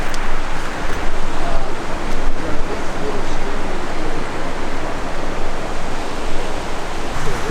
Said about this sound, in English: The water is flowing in the correct